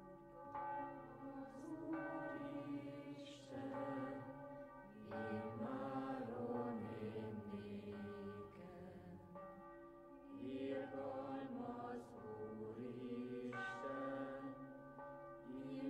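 Church bells in a Hungarian village ring steadily for about sixteen seconds, layered overlapping tolls sounding at a moderate distance with no voices.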